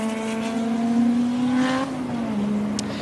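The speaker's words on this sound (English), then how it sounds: "he'll chase Ryan Cheek and Earl O'Malley up the mountain in this beautiful Audi S1 tribute car" An Audi S1 tribute race car climbs Pikes Peak at full throttle, its engine note loud and steady, rising and then dropping at a gear change before settling again, with no talk over it.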